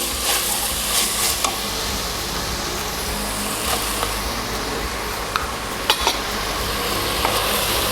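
Freshly ground masala paste sautéing in a pan for chicken biryani, a loud, dense and continuous sizzle close by, marked now and then by small scrapes of a stirring spoon, with no talk.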